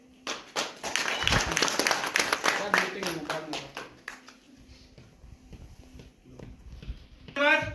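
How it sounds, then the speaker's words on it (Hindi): An audience claps for Jitendra Babu at a stage event, a dense burst of applause that fades within a few seconds, followed by quieter scattered sounds and a brief loud rustle at the end. "चलिए ताली जाओ उनके लिए, जितेंद्र बाबू के लिए"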